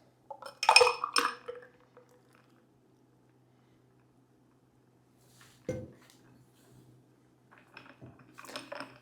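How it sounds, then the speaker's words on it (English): A shaken cocktail with ice is tipped into a serving glass: a loud clatter and clink of ice early on, then quieter scattered clinks against the glass after a long pause. "now I just like to dump all the ingredients into your serving glass, including the ice"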